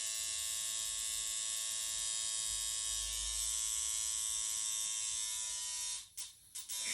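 Restored Micky Sharpz coil tattoo machine running, a loud steady electric buzz held close, briefly faltering and stuttering near the end as its speed changes.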